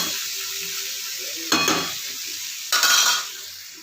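A loud, steady sizzle rises from ingredients frying in a hot pan, broken by two bursts of scraping and clattering as the mixture is stirred.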